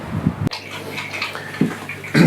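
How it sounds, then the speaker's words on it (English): Water drains out of an aquarium through a hose into a container, a close gurgling splash that swells and fades in short bursts. "while the water's siphoning out, I can now clean the glass"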